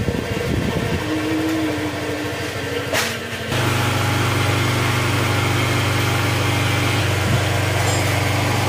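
A freshly repaired motorcycle engine idles gently during break-in, a steady close mechanical putter with a brief rev and shift in tone early on, then an even idle, no talking.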